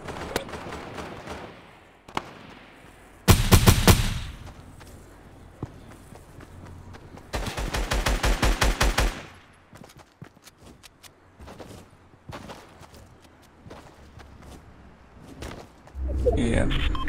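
Bursts of rapid automatic gunfire from a mounted turret machine gun in Fortnite on mobile, two dense volleys fired mid-match, with scattered footsteps and players talking over voice chat.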